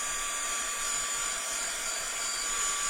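Hair dryer blowing on mixed media art pieces made with MDF and papers, a steady loud whooshing whine held without change for three seconds, no voices.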